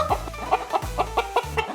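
Chicken clucking in a short series of about six sharp, evenly spaced clucks, close and clear, heard alone with no talk.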